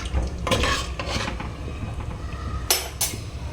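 Dal ingredients for dal dhokli are stirred in a pressure cooker on a gas stove: a few scraping, clinking strokes of a spoon against the metal pot, close and moderately loud, with a low kitchen hum underneath.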